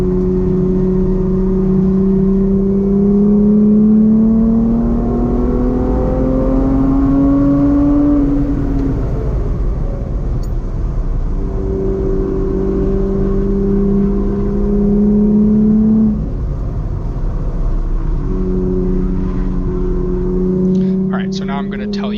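A Chrysler Crossfire SRT6 drives fast around the Chuckwalla race track, its engine note rising through the gears and falling on shifts, loud and close, with a voice talking over it.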